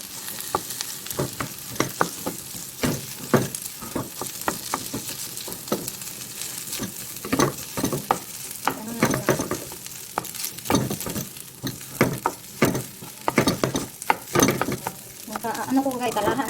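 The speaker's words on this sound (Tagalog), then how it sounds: "Luto tayo na ano guys na fried rice." Fried rice with meat sizzles and is stir-fried in a pan, a steady crackling hiss broken by repeated scraping and tossing strokes of a spatula, close and loud with no talking.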